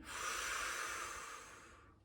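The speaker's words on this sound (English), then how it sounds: "We take a nice deep breath in. We exhale away." A long, steady breath of air is drawn in or let out during a barre workout, airy and close, fading out at the end with no talking.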